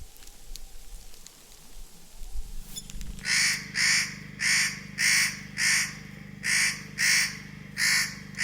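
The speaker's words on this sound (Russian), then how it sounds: "Первыми на новом месте нас встречали крикливые кедровки." Spotted nutcrackers call from a snowy forest in a steady series of harsh, rasping cries repeated about twice a second, loud and near, over a soft background hiss.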